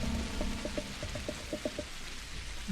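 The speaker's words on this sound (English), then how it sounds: "It's raining in the game and it's also raining outside." Rain falling in the video game Pathologic, a steady hiss of drops with scattered soft patters over a low rumble, close and continuous, no talking.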